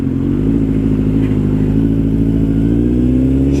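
A 2008 Suzuki Bandit 1250S motorcycle with a new exhaust pipe runs close by, its steady, heavy engine drone holding throughout and rising slightly in pitch near the end.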